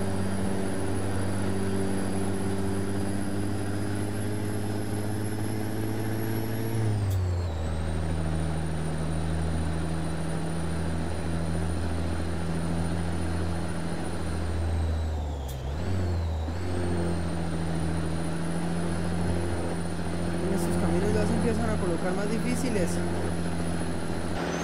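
A Kenworth C500 truck hauling a double trailer up a mountain roars at full throttle in a loud, steady, close drone, its pitch sagging and recovering twice as the engine is pushed hard.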